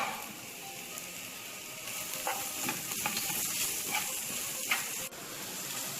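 Onions fry in oil with garam masala and pepper added, giving a steady close sizzle and hiss over about six seconds, with scattered scraping taps as they are stirred in the pan.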